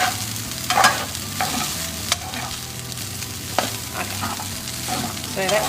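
Fried rice stirred and frying in a pan over the stove, a steady close sizzle with scraping stir strokes and occasional utensil clinks against the pan.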